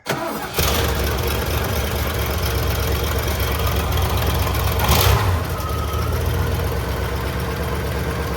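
A 1972 Lincoln Mark IV V8 cranks briefly and catches, then settles into a steady, loud idle that runs on alone, with one brief surge midway.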